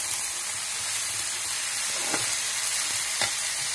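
Potatoes, garlic, green chilli and fenugreek sizzle in a pan with a steady hissing fry, broken by a couple of brief stirring scrapes, close and moderately loud with no talking.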